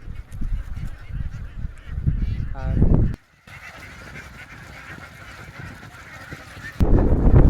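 Farm ducks raised for six months in open ground near water give loud, overlapping honking calls in dense bursts, with a quieter stretch in the middle before the calls swell again close by.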